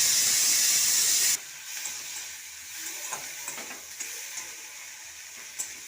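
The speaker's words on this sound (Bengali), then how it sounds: "টমেটোটা দিয়ে নাড়াচাড়া করে" Prawns and chopped tomato fry in a pan while being stirred, a soft sizzle and hiss with occasional spoon clicks after a loud hissing burst at the start.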